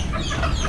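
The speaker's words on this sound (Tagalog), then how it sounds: "kakakaibigay ko lang ng pagkain maingay na naman sila" A brief stretch of chickens clucking and chattering together just after feeding, moderately loud and continuous, with no talking.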